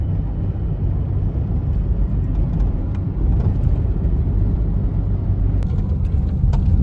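Inside a Toyota Corolla driving on a road in South Africa, a loud, constant low road and engine rumble with a few small clicks and rattles near the end.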